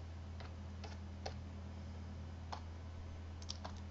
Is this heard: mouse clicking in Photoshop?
yes